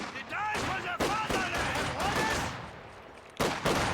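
Machine gun fire in a real-time WWII strategy game, rapid bursts of gunfire crackling through the battle over about four seconds, mixed with other combat noise.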